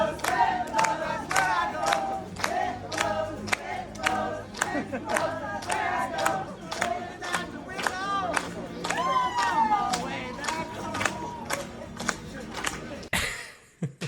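Group of people chanting a song together while walking through the streets of D.C. toward a bar, rhythmic shouted voices with regular clap-like beats, loud and close, ending abruptly.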